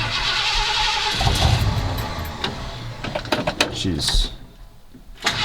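A 1977 Ford F250 pickup with a modified 351 V8 cranks and catches with mechanical clatter, then settles into a fast idle, and a person speaks briefly partway through.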